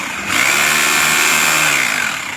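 An ENZO GBH 2-26 DFR 26 mm three-mode rotary hammer drill switches on and runs steadily at close range with a loud, even motor whine, then begins to wind down.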